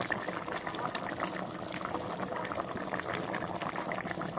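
Chicken masala curry bubbling in a covered pot on the stove, a steady dense simmer of popping and gurgling liquid that runs continuously at moderate, close-up volume with no talk.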